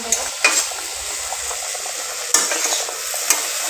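Potato and bitter gourd fry in an oily pan, a steady close sizzle broken by a few sharp scrapes and clacks of a stirring spoon, with no talking.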